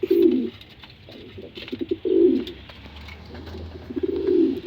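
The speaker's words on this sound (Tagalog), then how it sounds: "stress pa rin yung ibon natin, tapos kinukulit pa ng pares nya" Pet pigeons cooing nearby in a few low, throaty bursts with pauses between, a soft steady hum underneath and faint chirps in the background.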